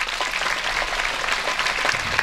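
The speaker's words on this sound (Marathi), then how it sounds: "साठी एकदा सर्वांनी जोरदार टाळ्या वाजवा" Audience applause at a motivational Father's Day talk, a crowd clapping continuously and energetically throughout, steady and fairly loud, with no voices over it.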